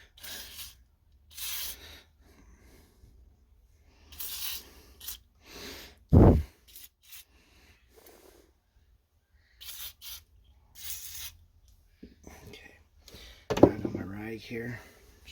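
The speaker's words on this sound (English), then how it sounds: "Just giving a quick spray down with WD-40." Several short hissing bursts of WD-40 aerosol spray from a can, separated by pauses, with quiet talk and rubbing between them, while coating Honda Civic EK pistons and rings.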